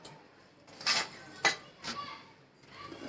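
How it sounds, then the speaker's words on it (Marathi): Cashews and almonds being cut with a knife on a board: a handful of separate sharp chopping clicks and taps, spaced unevenly, close and fairly quiet with room noise between. "काजू बदाम कट करून घेते."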